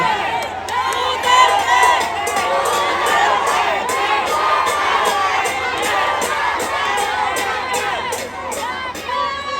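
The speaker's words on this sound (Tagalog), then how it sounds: "Ang sigaw ng mga tao ay Duterte!" A large outdoor crowd at a political rally in Quiapo, Manila, roars and chants continuously, loud and dense, with children's shouts and cheering blended in over a steady low hum.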